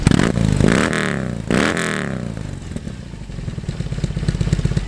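A motorcycle with an electronic exhaust revs hard twice in quick bursts, then drops to a loud, steady, rumbling idle close by.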